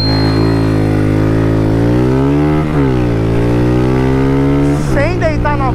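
Honda Fan 160 motorcycle accelerating from a standstill, a loud close engine climbing through revs with clear gear-change dips, then a voice speaks near the end.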